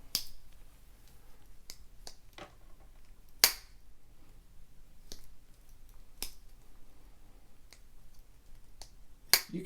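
A Rough Ryder Reserve pocket knife, a one-armed razor pattern with a scalloped notch in the blade, opening and closing with sharp, close snaps and clicks spaced a second or more apart in a quiet room.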